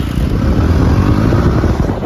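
A new motorcycle's engine runs close by, giving a loud, steady, rough low rumble throughout with no speech.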